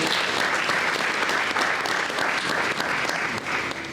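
A church congregation claps together in steady, dense applause during a morning worship service, the sound loud and continuous throughout with no voices standing out.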